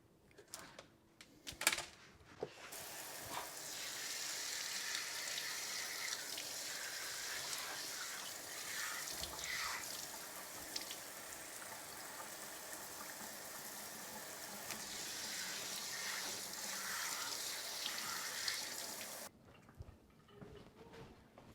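Water sprays steadily onto the filters of a Mitsubishi ductless air conditioner, a continuous hissing spray lasting most of the clip, starting and stopping abruptly, with some handling knocks at the start.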